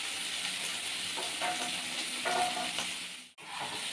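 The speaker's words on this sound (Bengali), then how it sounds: "আমি এগুলোকে আগে একটু ভেজে নেব।" Garlic, tomato and ginger fry in a pan with a steady, close sizzle, a few soft stirring scrapes breaking through, and a brief hush near the end before the sizzle returns.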